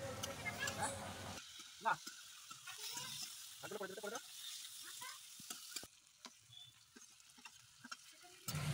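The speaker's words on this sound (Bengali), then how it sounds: "কড়াইয়ে তেল গরম হলে গুগলিগুলোকে ভালো করে ভেজে নিতে হবে।" Freshwater snails frying in hot oil in a kadai make a soft, faint sizzle with intermittent stirring scrapes, while a voice talks over it.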